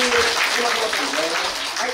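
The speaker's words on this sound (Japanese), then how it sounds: "拍手してもらいますね" Brief audience applause during a bottle-cap stacking performance, a short burst of clapping under a speaking voice.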